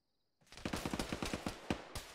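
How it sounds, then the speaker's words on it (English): Rapid automatic gunfire in a military shooter game crackles in a quick burst of about a dozen close, loud shots at an even rhythm, ending with one final round. "There's a guy in the field shooting at me while I'm pressure shooting."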